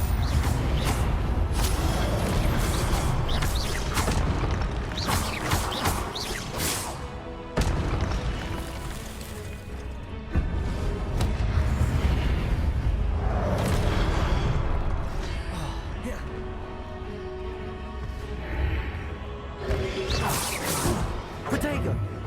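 Force spells are cast in Hogwarts Legacy on PS4: a busy stream of whooshes, crashing impacts and booming hits follow in quick succession, with voices mixed in among the effects.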